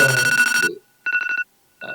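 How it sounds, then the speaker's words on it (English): Phone ringing with an electronic ringtone in repeated bursts, bright trilling tones separated by short silences, clear and alone. "oh, I hear a phone call."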